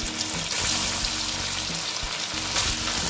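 Boiled, peeled small potatoes fry in hot oil, a loud continuous sizzle with bubbling crackle and occasional stirring, close and steady without any talk.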